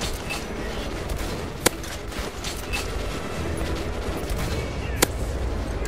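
Two sharp, isolated gunshots crack out a few seconds apart in the Metro Last Light video game, over a busy background of mechanical clatter and noise.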